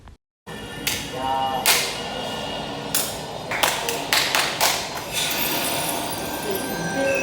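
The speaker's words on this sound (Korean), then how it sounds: "민들레 홀씨 앞에서 박수를 치면 나비들을 만날 수 있어요." Hands clap a few times in front of a dandelion-seed display at a flower exhibition in Hongdae, Seoul, with several sharp close claps standing out over steady background music and room noise.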